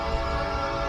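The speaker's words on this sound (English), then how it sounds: "And a train somewhere." Distant train rumbling with a sustained horn-like drone, a steady tonal hum over low rumble with no break and no voices.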